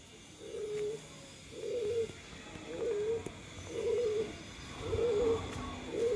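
Pigeons coo in a steady series of about five soft, rounded calls spaced roughly a second apart, near and clear over a quiet outdoor background.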